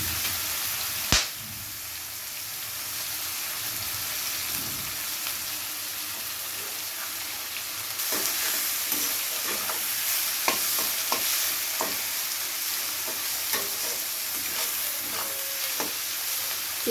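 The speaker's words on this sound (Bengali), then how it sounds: "পেঁয়াজটাকে কিছুক্ষণ ভেজে নিতে হবে একটু লাল লাল করে।" Chopped onions frying in hot oil with tempered whole spices for an egg and potato ghati: a steady sizzle fills the pan, a sharp clack comes early, and from about halfway frequent spatula scrapes and taps keep time with the stirring.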